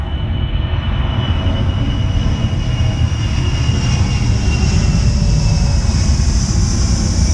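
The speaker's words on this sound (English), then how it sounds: "That's a military bomber going by." A military bomber flying low overhead, a loud, continuous deep engine roar that swells slightly as it passes, dominating the whole scene.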